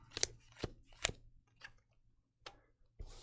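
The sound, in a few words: shuffling and dealing castle cards of a board game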